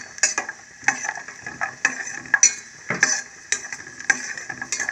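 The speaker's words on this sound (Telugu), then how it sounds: "నేను బాదం కిస్మిస్ వేస్తున్నాను అన్నమాట" Almonds and raisins fry in a pan over a low flame with a soft sizzle, while a spoon stirs them in repeated light scrapes and taps against the metal.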